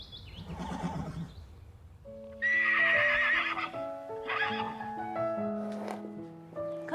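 A horse lets out a loud, wavering neigh, followed by further shorter whinnies, with the clip-clop of hooves underneath throughout.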